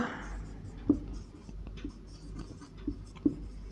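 Chalk or marker tapping and scratching on a classroom board during a Class 10 physics lesson on concave mirror images, a few faint scattered strokes with sharper taps, mostly alone with a low room hum.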